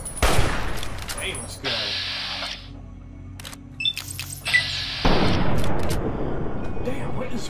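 Rifle shots ring out in Fallout: New Vegas, a few loud separate reports spaced apart with bursts of game noise between them. A man mutters briefly over the action.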